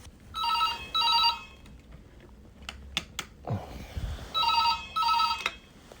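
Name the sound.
telephone ringing with a hotel wake-up call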